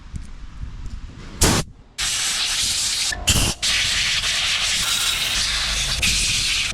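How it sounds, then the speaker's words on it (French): An air compressor's blow gun blasts air in long, loud, steady hissing bursts after a couple of short puffs, close by, used while cleaning parts of an old rusty Motobécane AG2 engine. "Le voilà le compresseur. J'adapte la soufflette dessus."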